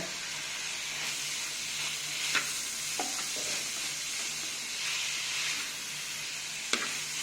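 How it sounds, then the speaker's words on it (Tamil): Onions and capsicum sauté in a pan for chicken manchurian. A constant, hissing sizzle holds steady close by, with a few isolated clicks and taps of a spatula. "வெங்காயம் நல்லா செவக்கிற வரைக்கும் வதக்கிக்கோங்க."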